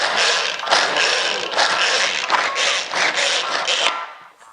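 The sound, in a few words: hand-cranked bladed chopper chopping onions, peppers and garlic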